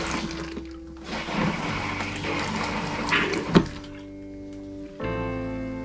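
Liquid is poured down the toilet of a Jayco 224 BH bunkhouse RV during winterizing, making a gurgling splash with a thunk partway through, then a steadier tonal hum of draining water, close by and with no voices.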